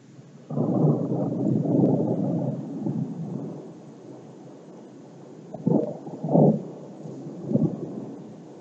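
Deep thunder during a violent thunderstorm rolls in a long loud rumble, followed by several sharper, closer cracks and booms with no voices.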